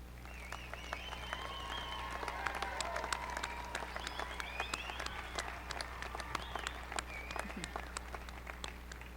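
A graduation ceremony audience applauds honor students and their families, producing sustained clapping from a large crowd heard a little distant over a steady low hum, with sharper nearby claps popping out and faint voices mixed in.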